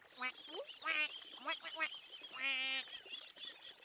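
Ducks quack repeatedly while feeding on old bread in a children's cartoon, nasal calls in quick clustered bursts, close and clear.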